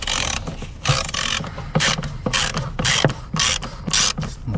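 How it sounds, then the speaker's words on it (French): A hand ratchet with a Torx 20 bit undoes screws on the air filter housing of a Renault Kangoo 1.9 D, producing quick repeated clicking strokes up close, with no voices. "Après vous allez prendre une Torx de 20 et vous avez 4 vis à dévisser."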